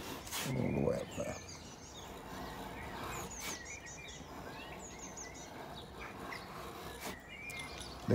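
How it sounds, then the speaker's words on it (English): Scattered bird chirps and calls ring out faintly outdoors, with a brief louder rustle near the start and quiet ambience between calls. "Listen to the birds."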